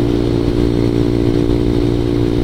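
A ZS 190cc Honda Grom clone motorcycle cruising at 53 mph gives a loud, steady engine drone with constant wind rush and a little mechanical clatter throughout.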